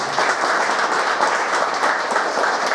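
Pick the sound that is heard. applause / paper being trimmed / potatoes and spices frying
applause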